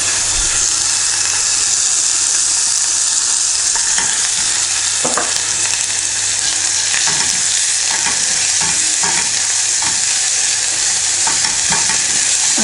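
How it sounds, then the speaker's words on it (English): Medium-sized chopped onions fry in a hot pan with a steady, loud sizzle, and a spoon or spatula scrapes through them in irregular strokes the whole way, with no talking. "So when that heats up, I am going to be adding some onions, some medium-sized chopped onions"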